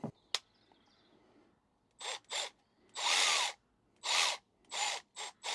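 An angle drill whirs in a series of short, loud bursts, about six quick revs with pauses between them, close by and with no talking.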